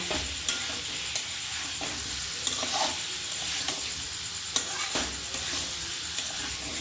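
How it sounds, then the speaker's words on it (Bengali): Cumin seeds temper in hot oil for a vegetarian aloo dum with curry leaves, a steady close sizzle and crackle with occasional sharp pops and stirring scrapes, no voices. "আজকে জিরে ফোড়ন দিল"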